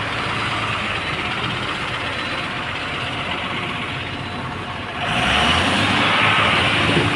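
Truck being driven and moved, a steady engine rumble and road noise that grows louder and harsher near the end, heard alone without talk.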